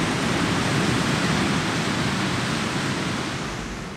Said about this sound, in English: The waves look decent today.